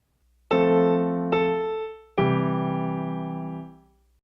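Piano phrase played with both hands, melody over chords: three sustained struck chords, the first two close together and the last held longest before fading, clear and close with no talking.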